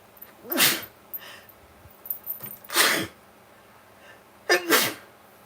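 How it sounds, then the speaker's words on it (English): Three separate sneezes from one person, close and loud, with short quiet gaps and faint breathy sounds between them. "I had to sneeze."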